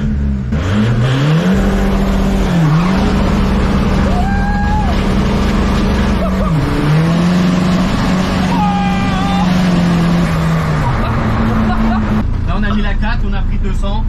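A 600-horsepower Seat Ibiza TDI fitted with nitro accelerates hard, its loud engine note climbing through gears in long sweeping revs, with people talking over it throughout.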